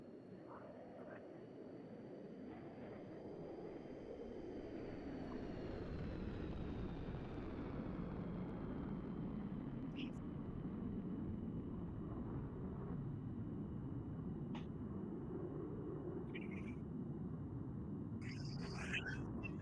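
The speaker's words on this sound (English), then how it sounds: "it looks like the F-35 is going into a stall" An F-35 fighter jet at the AeroKosh air show roars in a steady, distant, low rumble that swells slightly, with crowd and a voice faintly heard under it.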